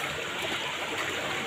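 Clear spring water flowing out of a natural mountain source into a pool, a steady broadband rush with a fine trickling texture, continuous and fairly close throughout.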